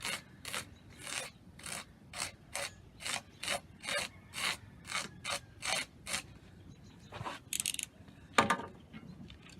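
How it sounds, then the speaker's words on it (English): Rough scraping strokes against the back of a vivarium background panel, about a dozen rhythmic rasping passes close up and evenly spaced, ending with a few irregular scuffs. "I'm going to rough up the back here so that we got a little more something to grab from the silicone."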